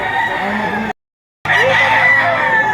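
Roosters and chickens crow and call at a livestock market in Lipa, Batangas, loud overlapping calls broken by a short gap of silence.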